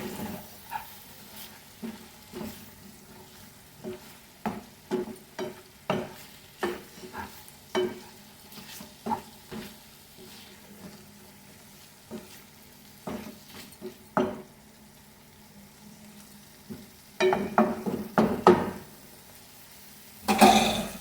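Fried prawns with curry leaves being stirred in a sizzling pan, with a soft frying hiss under repeated scraping strokes of a spoon against the pan that come in irregular bursts, louder clattering toward the end, no talking.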